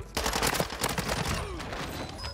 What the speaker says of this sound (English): Mortar strike.